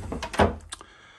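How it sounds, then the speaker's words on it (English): Cabin door on a 2021 Princess F45 yacht being opened, a short close thunk followed by a couple of lighter latch clicks, all within about a second and with no talking. "let's open the door."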